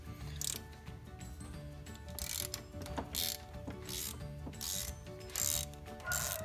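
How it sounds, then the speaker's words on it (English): Ratchet clicking in short repeated bursts while valve cover bolts come off a Volkswagen 2.0T FSI engine, each burst a quick near rasp of pawl clicks separated by brief pauses and soft handling noise. "I can start taking out these bolts right here"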